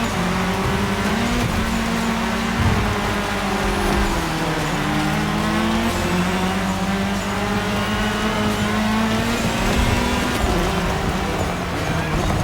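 Race car engines in The Crew Motorfest during a cross-terrain race, a continuous loud engine roar with shifting revs and pitch sweeps throughout, dense and unbroken.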